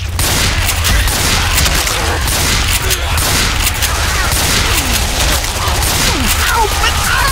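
Gunfire from Left 4 Dead 2 pours out in a dense, steady barrage with no real gaps, loud and close, and voices are mixed in beneath the shooting.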